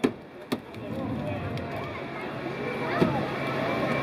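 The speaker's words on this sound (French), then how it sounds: "on est obligé de les scier, et c'est des vitres qu'on appelle laminées" Laminated windshield glass is sawn during a firefighters' car extrication demo at a fire station open day, sharp chopping strikes at the start over steady rasping cutting noise, with a crowd murmuring in the background.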